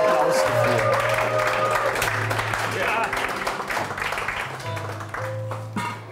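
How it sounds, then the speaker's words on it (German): An audience applauds in a television studio, dense clapping running under speech and music that fade toward the end. "Aber ja, sicher kriegst du da einen Applaus dafür."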